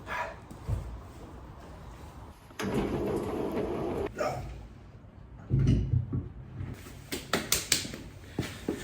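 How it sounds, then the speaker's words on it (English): A heavy crashed car door carried into a garage, with irregular thumps, scrapes and knocks of varying loudness, bursts of handling noise and footsteps, close by and mostly without talk. "Let's get the door out in the garage."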